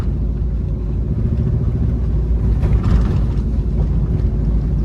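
Inside a car during a driving lesson, the engine gives a deep, steady rumble that swells slightly as it is revved, under road and wind noise. No speech is heard.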